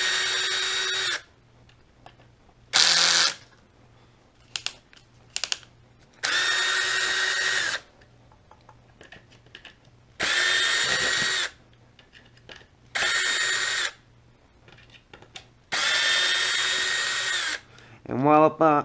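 Power driver backing the motor screws out of an X-Maxx RC truck, several loud sustained whirring bursts of one to two seconds separated by pauses, close up, with a final rising whine.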